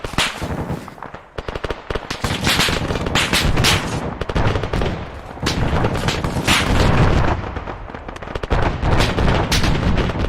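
Dense, rapid gunfire fills a close-quarters combat training exercise: sharp, loud bursts and single shots rattle nearly nonstop, with a brief lull early on before the shooting resumes at full intensity.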